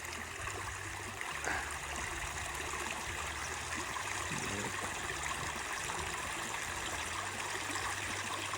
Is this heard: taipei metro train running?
no